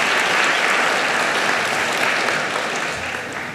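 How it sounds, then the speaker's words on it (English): Audience applause at a school graduation ceremony held at a college, a thick, continuous roar of clapping that holds steady and then gradually fades toward the end. "Give them a round of applause."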